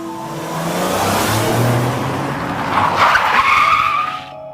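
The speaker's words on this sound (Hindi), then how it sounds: "तुमने गाड़ी में इतना क्यों जोर से ब्रेक लगाया" A car brakes hard, its tires skidding and squealing in a long, loud screech that rises near the end and then cuts off abruptly, with no talk over it.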